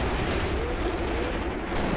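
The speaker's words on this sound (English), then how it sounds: "Look at that gunfire. It's going so close to him." Sustained battlefield gunfire in the WWII tactics game Graviteam Tactics: Mius Front, a dense rumbling wash of distant rifle, machine-gun and artillery fire rolling steadily without pause.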